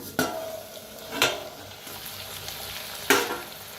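A spiced potato mixture stirred and roasted in a pan, with three sharp scraping clinks of a spatula against the pan over a soft continuous sizzle.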